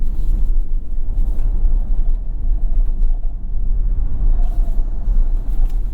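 A 2024 Toyota Tacoma Trailhunter with a snorkel drives along, its engine and turbo giving a loud, steady low rumble and whoosh heard from inside the vehicle.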